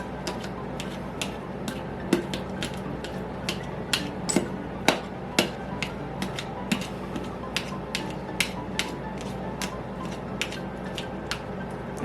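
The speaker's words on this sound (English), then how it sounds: "I'm gonna break it up with a fork." A fork taps and scrapes repeatedly against canned salmon in a bowl, producing a steady series of sharp, close clinks over a quiet background.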